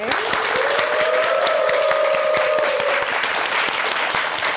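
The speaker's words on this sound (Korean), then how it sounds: "그 얘기를 제가 또 박수로 본격적으로 청해보도록 하겠습니다" Steady audience applause at a Korean morning talk show taping, dense and sustained for several seconds, with a brief tonal hum partway through.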